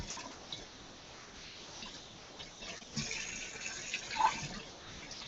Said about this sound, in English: this is why I rinse it off, because it's slimy from the blood